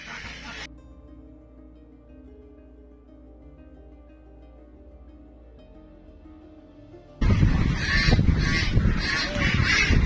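Loud, busy honking and quacking from a group of ducks in a pen bursts in after a long stretch of low, steady hum, continuing in overlapping calls.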